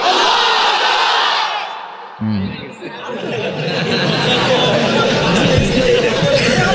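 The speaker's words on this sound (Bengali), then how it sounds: "তাকবীর দাও, লিল্লাহি তাকবীর" A large crowd at an Islamic waz sermon roars the takbir chant in loud unison. The mass shouting dips briefly as a single voice calls out, then the crowd surges back at full volume.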